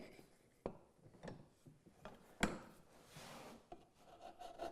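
Hand saw angled through a wooden dovetail, giving faint, soft rasping strokes with a few sharper knocks, close and quiet, without talk.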